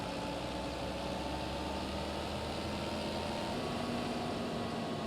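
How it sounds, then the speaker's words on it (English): Big tractor engine pulling a large cultivator in Farming Simulator, a steady low droning hum with a constant whine, running evenly and moderately loud throughout with no talk. "we have a big tractor and a big cultivator"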